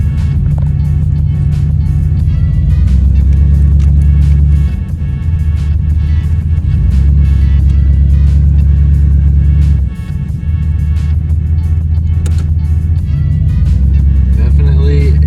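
A Monte Carlo SS drives along the road, its engine producing a steady, loud low rumble and drone throughout with brief dips in power. No one speaks over it.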